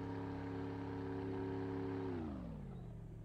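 A small boat on a lake, its engine droning in a steady low hum before the pitch and note shift as the throttle changes, close and continuous with no voices.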